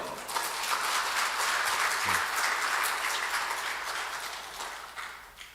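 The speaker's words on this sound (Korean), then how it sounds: "그런 하나님께 영광의 박수 한번 주십시오" Congregation at a Sunday evening church service claps in a sustained round of applause, dense and steady, swelling early and slowly fading toward the end.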